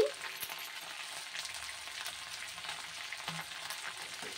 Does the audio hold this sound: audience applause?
no